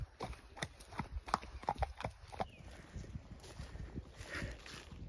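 Steady clip-clop of a ridden horse's hooves walking at an even pace on a sunny outdoor ride, close by, with faint outdoor background noise.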